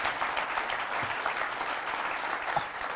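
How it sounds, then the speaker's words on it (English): An audience claps for a podcast guest, with steady, moderately loud applause and a few brief sharper claps standing out. "Give him a round of applause, everybody."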